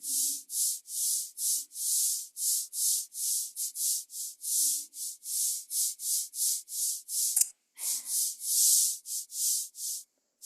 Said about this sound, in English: Here you can see three clusters of cicadas.